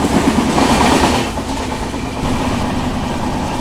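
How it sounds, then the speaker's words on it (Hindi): Onboard the 12380 Jallianwala Bagh Express between Jalandhar and Delhi, a wheel with a flat spot rolls along under a loud, steady rumble and clatter of the moving train. "तो फ्लैट व्हील साउंड आ रहा है बढ़िया।"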